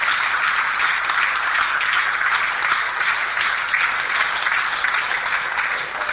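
A dense, steady roar of many hands applauding together at a gathering, continuous and sustained with no voices breaking through.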